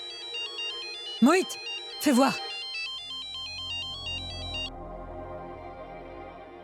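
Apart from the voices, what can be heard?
mobile phone ringtone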